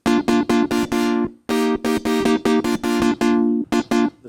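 A buzzy square-wave tone from a Prophet synthesizer plays short, rhythmic staccato notes in quick bursts, bright and loud with brief gaps between phrases.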